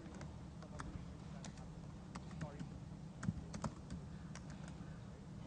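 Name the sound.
typing a password on a computer keyboard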